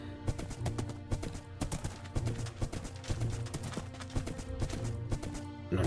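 A horse gallops in Minecraft: steady, rhythmic hoof clip-clops sound close up and moderately loud, with a low musical drone underneath.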